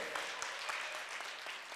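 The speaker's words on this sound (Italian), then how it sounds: "Un bellissimo applauso." A short stretch of applause for a performance at an Italian evening sports gala, heard as a dense patter of clapping from a crowd at moderate distance.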